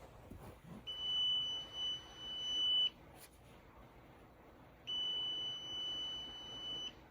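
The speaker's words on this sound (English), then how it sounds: "It plays a fairly loud beep on your remote, and this is what it sounds like." Two long, high-pitched electronic beeps from a Hisense XR10 projector remote's finder, each lasting about two seconds with a pause between, loud and steady like an alarm tone.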